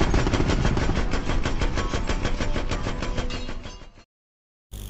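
Rapid automatic gunfire from a film scene rattles in a dense, continuous loud burst for about four seconds, then cuts to silence; no talking.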